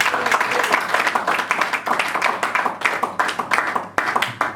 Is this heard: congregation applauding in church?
yes